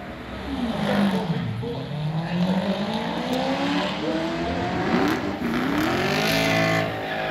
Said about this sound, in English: I have no idea what motor's in it, but it does a wicked burnout